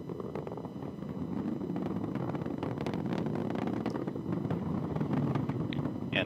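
An Atlas V rocket with its RD-180 engine climbs through supersonic flight and maximum dynamic pressure, heard as a faint, distant, continuous rumbling roar with crackle that holds steady throughout, and no one speaks.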